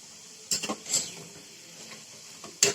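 Slices of banana for chips frying in hot oil and being turned with a spoon: a low steady sizzle broken by a few close scraping, clattering bursts as the pieces are flipped, with no talking.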